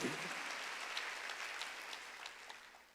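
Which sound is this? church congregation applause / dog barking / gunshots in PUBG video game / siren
church congregation applause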